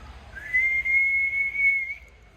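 A voice imitates an incoming rocket with a single long, steady high whistle lasting over a second, close and clear with no talk.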